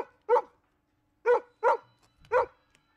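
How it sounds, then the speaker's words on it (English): A husky gives four short vocal yips and barks, one alone then a close cluster of three, loud and near, with a soft rustle at the end and no talk. "my boy's husky's talking to you."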